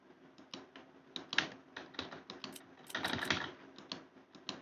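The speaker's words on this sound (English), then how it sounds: "Keyboard sounds." Computer keyboard keys clacking in quick irregular bursts, a close, fairly quiet run of taps with a denser flurry near the end.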